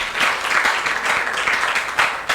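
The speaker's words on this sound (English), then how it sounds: "Please give them a round of applause." An awards ceremony audience claps steadily for the competition entrants, giving a dense, continuous round of applause with no talk over it.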